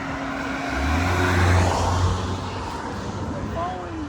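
A clean Lotus Elise sports car drives past at a moderate distance, its engine swelling to a peak and then fading under faint background noise.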